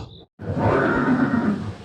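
A horse neighing at the Haldighati museum display of Chetak, a single loud, drawn-out whinny lasting over a second, close and dominant, following a brief high tone and a moment of silence.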